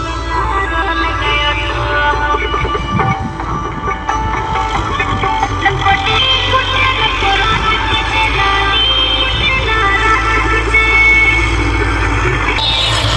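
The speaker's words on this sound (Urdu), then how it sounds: "دیکھ سکتے ہیں ہمارا ٹریکٹر چل رہا ہے کھیت میں،" A tractor runs in a farm field next to standing cotton, its engine a loud, steady low rumble that continues without a break for the whole stretch.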